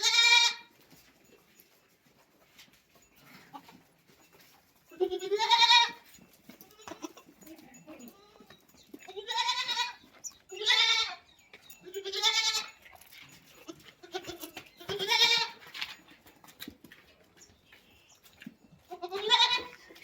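Goats bleat loudly and close while running after being given crushed maize feed, about eight separate calls spaced a second or two apart, with quiet gaps between them.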